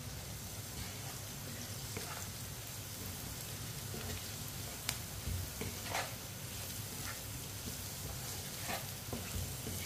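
Spices with turmeric and red chilli cook gently on low heat, giving a quiet, continuous sizzle with faint crackles and occasional soft pops, and no talking.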